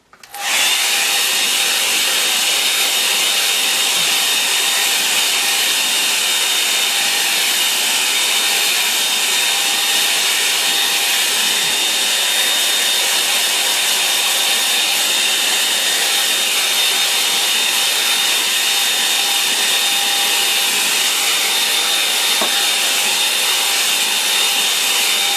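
A hair dryer blows steadily to dry wet watercolour paint, a loud, constant whooshing hiss with a faint whine that runs unbroken for about twenty-five seconds with no talking.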